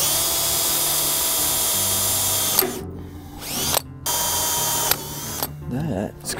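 Drill boring holes through a steel I-beam with cutting lube during a trailer winch install, a loud steady motor whine broken by several short stops and restarts, with a brief squeal near the end.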